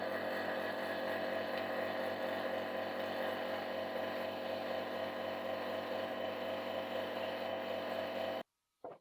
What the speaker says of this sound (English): I will press it a little bit and turn on the pump.